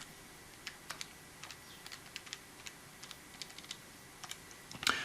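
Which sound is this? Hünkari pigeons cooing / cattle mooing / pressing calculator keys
pressing calculator keys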